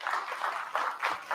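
An audience applauds an award winner at a live kayak angling awards show, producing steady, fairly close clapping that swells and dips in waves across the moment.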